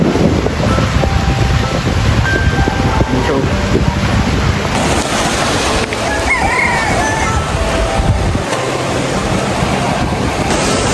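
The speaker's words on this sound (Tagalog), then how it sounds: "Ganyan po palakas yung alon dito." Ocean surf washes and crashes steadily under gusty wind buffeting the microphone, loud and continuous, with no clear talking.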